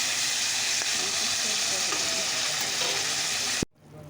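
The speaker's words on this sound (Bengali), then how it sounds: "সজনে ডাটাটা বসিয়ে দিলাম" Drumstick vegetable stalks frying in a hot pan give a loud, steady sizzle with stirring scrapes. It runs unbroken for several seconds, then drops to a quiet hiss after a thump.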